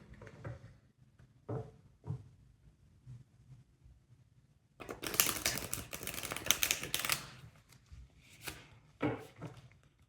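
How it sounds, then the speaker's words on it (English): A tarot deck being shuffled by hand: a few soft, brief card taps and slides, then a dense, crisp riffling burst lasting about two seconds, followed by more short flutters, all close and fairly quiet without any talk. "Just going to reshuffle my cards first."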